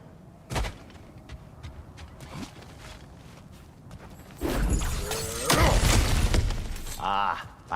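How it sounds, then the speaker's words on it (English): Ground cracks and smashes apart in God of War Ragnarok, a loud crunching burst of breaking debris after a quieter stretch of faint footsteps and soft thuds, with a sharp crack early on. "Ah, back to smashing through things for fun and profit."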